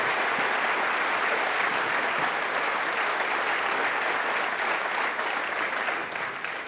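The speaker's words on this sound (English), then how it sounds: "I want to give them a big round of applause" Loud, continuous applause from a concert audience at a Children In Need charity concert, a dense wash of clapping that holds steady and fades slightly at the very end.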